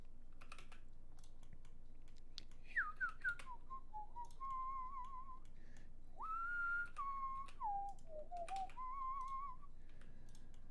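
A person whistles a wandering tune with sliding, warbling notes, close by, over a steady low background hum and faint clicking.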